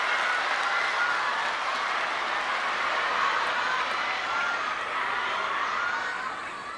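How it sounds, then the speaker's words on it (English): A raucous arena crowd at a table tennis World Cup semi-final in Macao roars and cheers in a dense, continuous wall of noise that eases slightly at the end. "listen to this raucous crowd"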